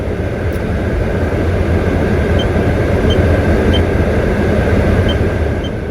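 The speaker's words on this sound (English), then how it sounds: "They're on automatic and I'm in a car wash." An automatic car wash runs over a 2019 Renault Megane Iconic Sport Tourer, a steady loud rush of water and brushes drumming on the body throughout, heard from inside the car with no talking.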